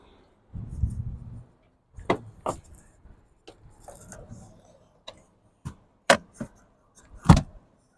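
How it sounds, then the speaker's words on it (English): Mid-row seats of a 2023 Nissan Pathfinder Rock Creek are folded down, giving a muffled thump, then several sharp latch clicks and clunks spaced over a few seconds in a quiet cabin. "if you want the mid-row down, just like on the Platinum Pathfinder that we had before, we have to let them down on either side of the vehicle"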